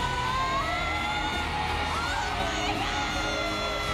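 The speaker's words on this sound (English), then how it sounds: "the audience is screaming" A concert audience screams steadily and loudly, a dense, distant wall of shrieks with faint singing underneath.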